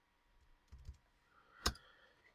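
A computer keyboard's spacebar pressed a few times in a quiet room, giving soft low thumps followed by one sharper, louder click, with no one speaking.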